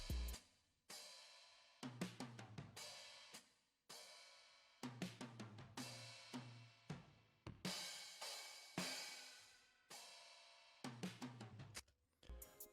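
A 1975 drum kit preset from BBC Labs in a soul loop: punchy kicks, snares and ticking hi-hats repeat in a steady, groovy pattern that stops and starts in short bars, loud and up close with no voices.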